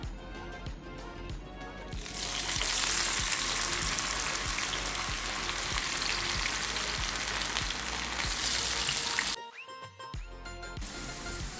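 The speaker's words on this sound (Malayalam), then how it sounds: "ബാക്കിയുള്ളതും നമുക്കിതുപോലെ ഫ്രൈ ചെയ്തെടുക്കാം." Bitter gourd slices deep fry in hot oil, a dense, loud bubbling sizzle that swells as the slices go in and carries on steadily, with a brief quieter break near the end.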